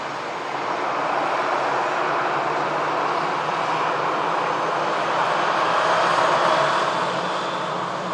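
An easyJet airliner, just landed from Amsterdam, rolls off the runway with a steady, loud broadband jet roar that holds evenly throughout, swelling slightly near the end.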